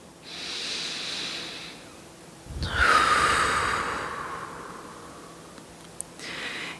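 Slow, steady breathing during a calm yoga session, one long audible breath that swells and fades, close and fairly soft, with faint hissy exhales around it and no talking.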